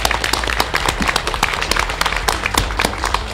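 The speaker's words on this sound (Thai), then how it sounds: "อยากจะขอให้ทุกท่านนะครับช่วยปรบมือเป็นกำลังใจให้กับทีมงานของโฟกหน่อยนะครับ" Audience applause for a political party's campaign team at a press conference after a by-election in Phitsanulok, made of dense, steady clapping from a crowd.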